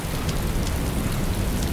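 Rain falling in the survival video game DayZ, a dense steady hiss of downpour with low rumbling underneath, loud and continuous with no individual drops standing out.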